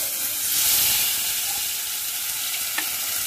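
Ginger-garlic paste sizzling in hot oil with salt and turmeric for a potato egg curry, a steady bright frying hiss with a faint stir near the end.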